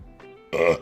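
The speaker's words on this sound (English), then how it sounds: "I burped and hiccuped at the same time and it hurt" A single combined burp and hiccup from a person, a short voiced gulp followed by a louder, harsher eructation lasting about half a second, heard close up and alone.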